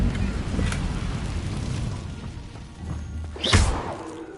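The Incendio fire spell cast in Hogwarts Legacy: a low, rumbling, windy whoosh with soft thuds, ending in a sharp burst of flame and impact late in the clip.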